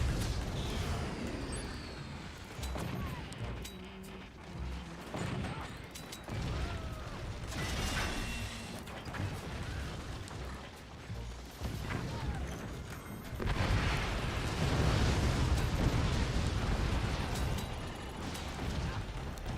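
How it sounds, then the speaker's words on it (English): Rockets in the game Forts fire and burst in a dense, continuous roar with rumbling impacts and mechanical clatter. The noise swells louder near the end. "The rockets are flying."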